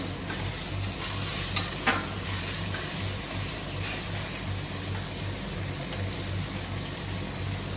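A pan of fish curry cooking on the stove, with a steady low simmer and sizzle throughout and a couple of sharp clinks partway through as hot water goes in. There is no talking.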